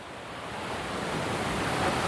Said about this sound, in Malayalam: പതഞ്ഞൊഴുകുകയാണ് കാളിന്തി